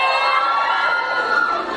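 A student cheering squad of first-year university students shouts and cheers loudly and continuously as one massed, close crowd.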